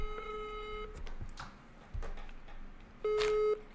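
A telephone busy signal sounds after a rejected call: short, flat electronic tones at the start and again near the end, with faint handling noises in between.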